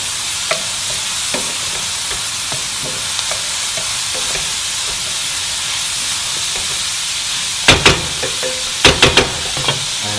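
Diced carrot frying in a pan, a steady loud sizzle with scattered scrapes and a few sharp clinks of a utensil stirring near the end.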